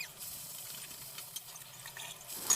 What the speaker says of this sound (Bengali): এবার একটু জল দিয়ে দেবো, নাহলে আমার মশলাটা পুড়ে যেতে পারে